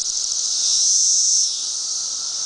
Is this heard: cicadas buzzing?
yes